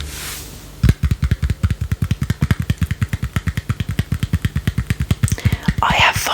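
Engine sound from the Sega Game Gear racing game Super Monaco GP, a rapid, steady pulsing drone of evenly spaced low engine beats after a brief start, loud and continuous throughout.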